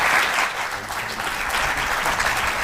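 Full audience applause at a public oration evening, a dense, continuous wash of clapping at fairly high level, with faint crowd murmur and no one speaking over it.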